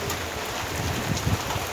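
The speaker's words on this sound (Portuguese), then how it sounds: "Porque é chuva com sol." Summer rain pours down in a city while the sun is out, a steady close hiss of drops with a low rumbling undertone that runs unbroken and fairly loud, with no voices.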